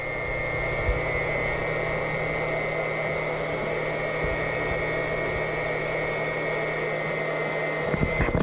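A circulation pump in a glycol-filled heated driveway snowmelt system runs with a steady whine and hum, with a few faint clicks and knocks near the end.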